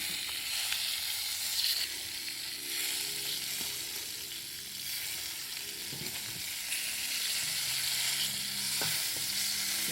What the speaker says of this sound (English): Then I'm gonna stir fry some ginger in it.